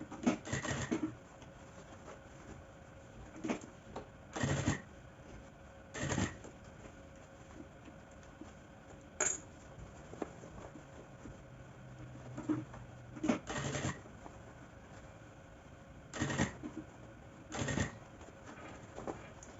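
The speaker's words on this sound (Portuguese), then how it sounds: "Então, eu vou costurar aqui pela parte da lateral." Repeated short bursts of a sewing machine running along the side seam of a small baguette bag, pausing between stitching runs with quiet handling and fabric rustle in the gaps.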